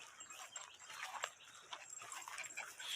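A dog whimpers and whines in a string of faint, high, uneven cries at a distance, with scattered small yips and rustles and no talking.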